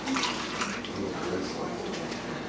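Liquid lactic acid being poured for a sour beer tasting makes a steady splashing stream, with a voice speaking briefly over it.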